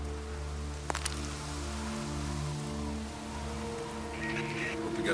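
Steady rain falling across an open outdoor area in the video game Days Gone, a constant soft hiss that sits under a low engine-like drone and some faint talk.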